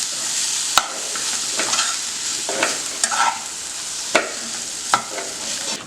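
A spoon stirs rice through fried tomato and methi leaves in a hot pan, giving a steady sizzle under sharp scraping knocks against the metal at irregular intervals.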